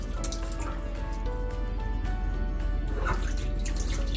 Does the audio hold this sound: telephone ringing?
no